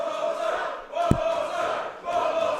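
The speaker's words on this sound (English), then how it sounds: "Crowd asking for it. They want one more." A wrestling crowd at a New Wave Wrestling show cheers and roars in sustained waves, with a sharp slap or thud near the middle.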